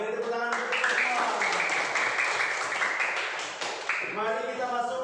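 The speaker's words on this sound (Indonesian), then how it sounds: "beri tepuk tangan semua" A classroom audience claps steadily for several seconds, a dense even patter with voices calling out briefly at the start and end.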